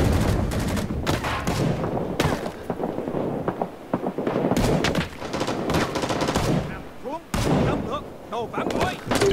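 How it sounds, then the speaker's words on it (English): Dense gunfire from the Rising Storm 2: Vietnam game, with rapid bursts, single shots and heavy blasts packed together across the whole stretch, loud and close, with voices talking underneath. "Stop shooting, you jerk."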